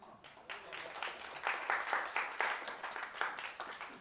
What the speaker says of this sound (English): I want you to give a great round of applause to Groxio